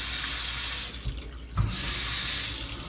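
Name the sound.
hot water running from newly installed faucet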